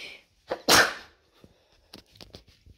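A single sharp human sneeze bursts out loudly near a TV under LED strip repair, preceded by a short intake and followed by faint scattered handling clicks.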